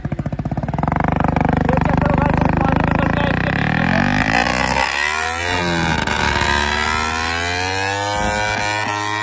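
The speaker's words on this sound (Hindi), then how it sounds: "स्टार्ट कर लो बाइक, स्टार्ट करो" Kawasaki Ninja 300 motorcycle engine cranking and catching after being dragged out of a river, revving loud and close with a sputtering start, then settling into a rising, wavering idle under brief talk.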